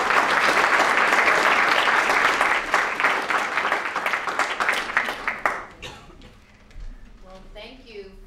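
Audience applause fills a lecture hall as a transplant surgeon, chief of a liver transplant division, is welcomed, steady dense clapping for about five seconds before thinning out and fading into quiet.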